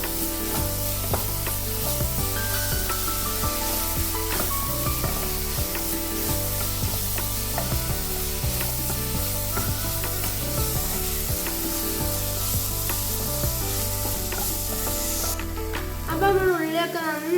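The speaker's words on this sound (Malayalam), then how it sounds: "കുരുമുളക് പൊടി ചിക്കൻ മസാല കുറച്ച് ഗരം മസാല ഇനി നമുക്കിത് നന്നായി മിക്സ് ചെയ്യാം" Chicken masala, pepper and garam masala are stirred in a frying pan, with a continuous sizzle and scraping that runs the whole time under steady background music.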